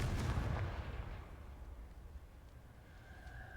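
Bombarda and Confringo spell blasts in the video game Hogwarts Legacy, a fairly quiet, deep explosive boom that rumbles out and fades over a few seconds.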